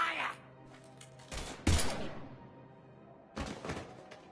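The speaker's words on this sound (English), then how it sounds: "Now open fire!" Short, loud bursts of gunfire from the video game Mass Effect 3 crack out in two separate volleys, with quieter gaps between them.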